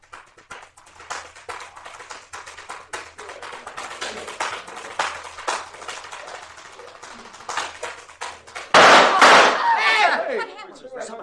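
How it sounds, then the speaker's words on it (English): In a radio drama, a series of sharp rhythmic taps from tap dancing without music is cut off by a single loud, close gunshot bang that rings and fades briefly. "He's been shot. Someone shot Claude Berkeley."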